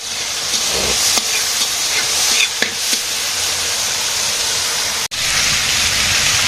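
Potato, eggplant and papaya sauté in a pot over a village fire, a dense close hiss of frying with a few scattered knocks and one sharp break near the end.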